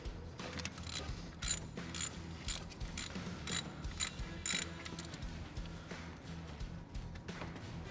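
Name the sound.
ratchet removing 8mm bolt from Ford F-150 cylinder head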